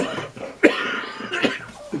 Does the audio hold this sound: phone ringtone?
no